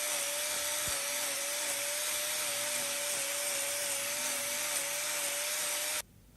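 A cow's hoof being trimmed during care for laminitis, with a power tool whining at a steady pitch and a grinding hiss, loud and continuous, cutting off abruptly near the end.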